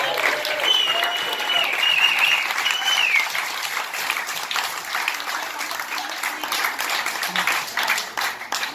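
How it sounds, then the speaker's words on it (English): An audience applauds the panelists at the close of a panel discussion, a steady wash of clapping lasting several seconds with a faint voice briefly rising over it near the start. "Please, let's give them a round of applause for coming out today."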